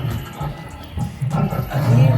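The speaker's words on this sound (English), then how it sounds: "Oh, nice lion." A lion roars in a low, rumbling swell that builds and grows louder toward the end, heard from a moderate distance amid background ambience.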